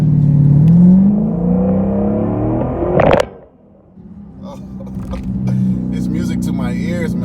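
A Dodge Charger Scat Pack V8 with its mid-muffler deleted roars loudly under acceleration, rising in pitch, then cuts off sharply into a brief lull before settling into a rumbling idle, with someone talking over it.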